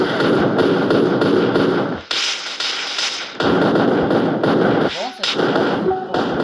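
AK-47 automatic gunfire in the video game Police Tycoon: loud, dense bursts of rapid shots, broken by a short pause, with a brief voice speaking near the end.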